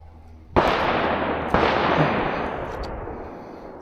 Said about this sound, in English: First shots with the Micro Dagger.